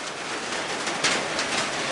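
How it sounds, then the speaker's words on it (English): Rain drums on a roof on a March day in Oklahoma, a dense, steady patter that stays loud and close throughout, with one brief sharper splash midway. "You can hear the rain hitting the roof."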